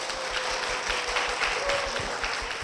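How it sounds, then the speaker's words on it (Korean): Church congregation applauds as a deacon's wife is welcomed onto a church talk program, a short burst of steady, even clapping at moderate level throughout. "자, 아내분 장영주 집사님 박수로 모시겠습니다."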